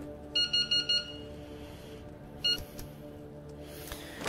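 Electronic alarm beeping in the video game Into the Radius: a quick run of four high, evenly spaced beeps, then one more isolated beep after a pause, moderately loud over a low ambient hum.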